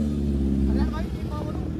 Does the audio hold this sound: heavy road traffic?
yes